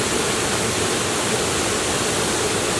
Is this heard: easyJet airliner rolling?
no